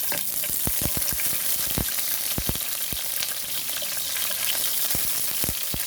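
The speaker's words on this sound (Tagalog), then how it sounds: "So, igigisa na natin to. Unahin natin yung atin onion." Onion sautéing in a little oil in a hot pan, a loud, continuous hiss and crackle with scattered sharp pops and clicks throughout, and no voices.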